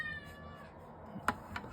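A house cat meows briefly, one short call followed by a fainter second, heard quietly in an indoor room with no talking.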